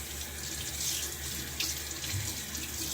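Water runs steadily from a bathroom tap into a sink during a wet shave, a continuous close hiss with small splashy surges and no talking.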